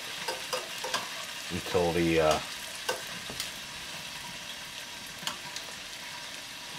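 Broccoli rabe stems sautéing in a pot, a soft steady sizzle with scattered stirring clatters and a brief scrape, a voice speaking faintly over it.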